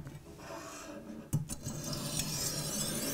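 Kitchen knife drawn across a whetstone on a Ruixin Pro RX-008 sharpener, giving a close, soft rasping scrape with a brief sharp knock partway through.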